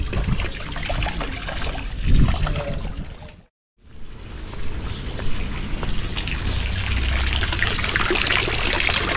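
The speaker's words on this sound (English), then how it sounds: "they have these amazing fountains where you can actually drink the water" Water trickles and pours from a public drinking fountain in Zurich, a steady outdoor splashing stream that briefly cuts out before resuming, with no talk over it.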